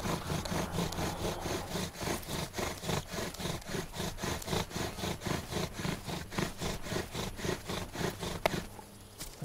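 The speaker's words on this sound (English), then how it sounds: "So I'm just burning in my divot so that I can cut my notch." Wooden friction fire drill burning a divot into a wooden board, a steady rhythmic back-and-forth rasp of wood on wood with about two strokes per second, close and even, stopping near the end.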